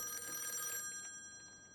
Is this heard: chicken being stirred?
no